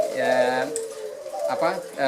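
A Barbary dove, Streptopelia risoria, gives soft, low, rolling coos in two phrases with a short pause between them. The calls sound fairly close and clear.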